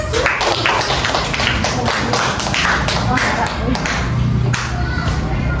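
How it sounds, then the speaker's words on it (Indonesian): A group claps hands together during an on-the-job training session in Sidoarjo, brisk close clapping with voices talking over it. "Ya, tepuk tangan."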